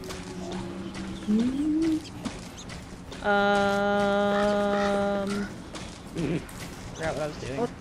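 A bird coos in the video game Don't Starve Together, a sustained tonal call heard clearly for a couple of seconds amid players talking and laughing before and after.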